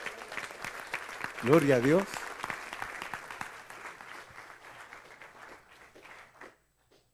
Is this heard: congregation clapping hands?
yes